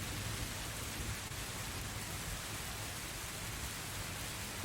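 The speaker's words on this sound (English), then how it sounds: "the rain picks up" Heavy rain pours in an unbroken, even hiss with a soft low rumble underneath, steady and enveloping from start to finish.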